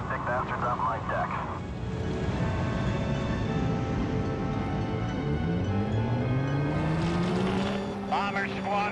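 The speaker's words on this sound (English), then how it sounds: "Gun those engines and get those big bastards off my deck." Heavy bomber aircraft engines revving up for takeoff from a carrier deck in the video game Heroes of the Pacific, a loud continuous roar with rising engine pitch, and radio-style voices over it at the start and end.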